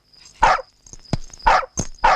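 A dog barks close by in a quick series of about four loud, sharp barks with short gaps between them.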